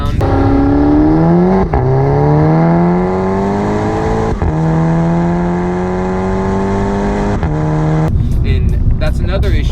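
Revo Stage 3 tuned MK6 Volkswagen GTI engine pulling hard through several gears, loud rising drone climbing with each gear and brief dips at the shifts, heard from inside the car with a rougher burst at the end.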